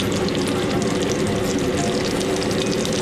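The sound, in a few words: fish frying in a pan, sizzling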